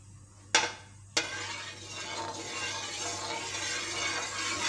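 Cardamom pods crackle and sizzle as they drop into hot oil for suji halwa. A sharp spatter comes first, then a second one, and a steady close hiss follows with no talk over it.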